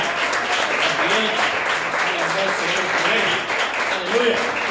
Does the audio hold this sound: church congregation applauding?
yes